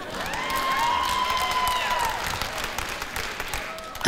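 Audience applause and cheering at a stand-up comedy show in Uzbek, a steady crowd clapping that swells and holds for a few seconds before fading, with a few voices calling out.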